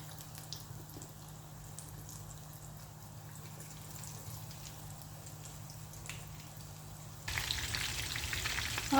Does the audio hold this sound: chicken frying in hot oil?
yes